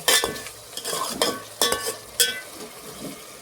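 Egg biryani masala being stirred and sautéed in a pan, a spoon scraping in several distinct strokes over a soft sizzle, close up with no talking.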